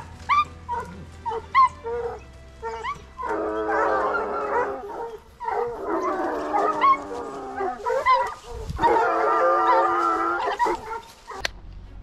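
Hunting dogs bay and howl during a wild boar hunt in the French countryside. Bursts of layered baying from several dogs rise and fall over twelve seconds, separated by short yips and quieter gaps, at moderate distance.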